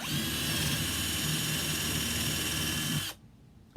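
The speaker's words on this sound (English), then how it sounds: "and drill the hole." A power drill with a 3/16 bit runs steadily with a high whine and rumble for about three seconds while drilling a hole, then cuts off abruptly, leaving near silence.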